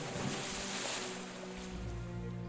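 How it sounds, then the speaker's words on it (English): Waves splashing against a shore, played as background ambience during a tabletop game session: a steady, soft wash of surf with a low humming tone beneath it. "hear the waves kind of splash up against the shore"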